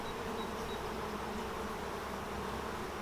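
Honey bees buzz at a crowded hive, a steady, dense droning hum that stays close and even throughout with no pauses.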